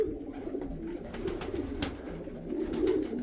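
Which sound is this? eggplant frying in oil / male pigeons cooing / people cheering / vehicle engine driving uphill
male pigeons cooing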